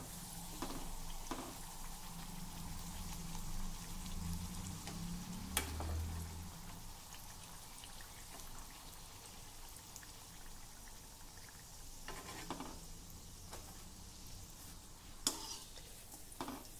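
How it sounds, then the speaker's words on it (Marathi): Sweet jaggery puris deep-frying in oil over a low flame; a soft, steady bubbling sizzle stays faint throughout, broken by a few brief clinks and light stirring sounds. "अगदी मंद गॅसवर एकसारखा रंग येईपर्यंत आपल्याला ह्या पुऱ्या तळायच्या आहे"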